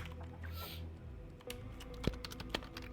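Computer keyboard typing, a loose run of quiet clicking keystrokes, sparse at first and then bunching into quick taps, close and soft with no talk.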